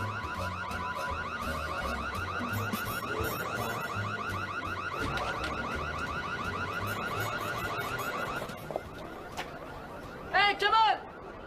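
A car alarm blares with repeating electronic tones, loud and continuous, then cuts out before a few brief rising chirps.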